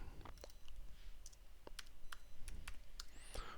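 Keys clatter on a computer keyboard in scattered, uneven bursts of sharp clicks. The typing is fairly faint, with no voices over it.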